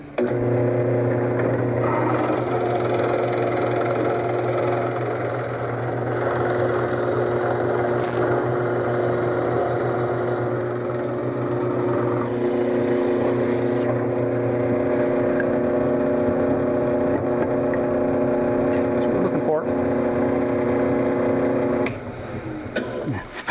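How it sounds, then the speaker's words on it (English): A steady motor drone of a drill press runs continuously, with grinding tones shifting as a 1-inch Forstner bit cuts a mortise into wood, ending in a wind-down. "I can cut the corresponding mortise at the drill press here with a 1 inch Forstner bit"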